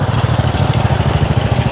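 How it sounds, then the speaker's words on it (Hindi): A Thai motorcycle rickshaw, a motorcycle hitched to a small passenger cart, idles with a steady, fast low putter, loud and close, running continuously without pause. "थाईलैंड में ये वाला रिक्शा देखें, मोटरसाइकिल रिक्शा"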